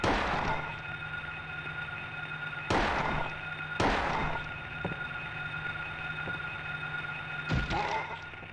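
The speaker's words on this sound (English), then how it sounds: "What are you even shooting at, Harry?" Gunshots in the video game Silent Hill: four sharp, loud firearm blasts at uneven intervals, each with a short ringing decay over a steady droning game ambience.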